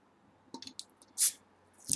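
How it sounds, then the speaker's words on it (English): Ginger honey mead, carbonated, poured into a wine glass: a few small liquid drips and clicks lead into a short loud fizzy splash, then another rising pour burst at the end, with no talk. "let's pour this into a wine glass here"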